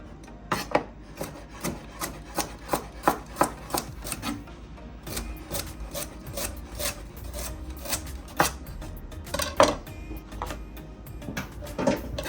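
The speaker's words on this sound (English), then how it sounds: "Give it a nice, some rough chops. We're not trying to be perfect with cutting the carrots right now." Carrots being roughly chopped on a cutting board, a quick run of sharp knife taps in uneven bursts, close and distinct with no talking.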